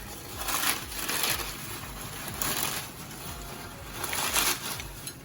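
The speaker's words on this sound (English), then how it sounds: "Just break the noodles" Crispy fried noodles crack and crunch as hands break them apart, a close, continuous crushing with small brittle snaps.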